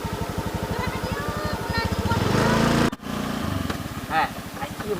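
A motorcycle engine idles with a steady low throbbing pulse, close and fairly loud, then revs up briefly before a sudden cut. Voices talk over it afterwards.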